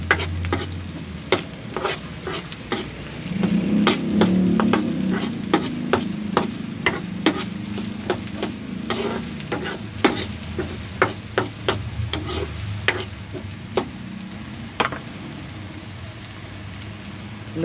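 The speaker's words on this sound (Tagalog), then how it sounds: "Isunod ko ang bawang." Garlic sautéing in a pan for beef papaitan, with a steady near sizzle and a run of sharp, regular stirring clicks and scrapes throughout.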